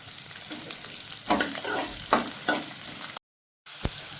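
Seasoning deep-frying in a pan for semiya upma, with carrot and coriander added: a steady, close hiss of frying broken by several louder scrapes of stirring, a brief cut to silence, then sizzling resumes.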